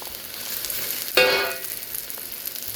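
Garlic and Birdseye pepper hit a hot pan with a sudden sizzle that bursts up loudly, then settles into a steady, softer frying hiss close by, with no talking.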